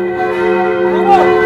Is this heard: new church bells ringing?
yes